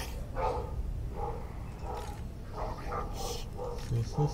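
Several excited dogs bark in bursts at a distance while a garbage truck passes outside, faint and intermittent behind speech.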